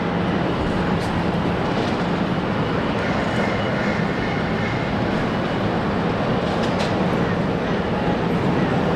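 Airbus A330 airliner rolling for takeoff at Brisbane International Airport, a constant loud broadband engine roar that holds steady from start to end and sounds fairly near.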